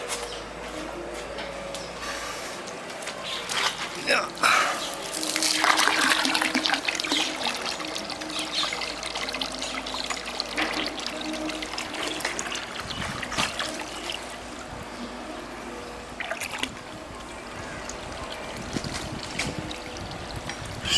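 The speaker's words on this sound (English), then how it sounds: "I'm going to start putting water in there" Water pours steadily into an aquaponics tank with a continuous rushing, trickling noise that swells partway through and then settles into a constant flow.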